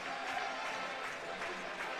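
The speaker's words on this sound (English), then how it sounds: "the Adrian College fans up in their feet, all clapping" College ice hockey fans at an NCAA quarterfinal rink clap together after the final horn, a steady dense wash of applause filling the arena without a break, with faint crowd voices mixed in.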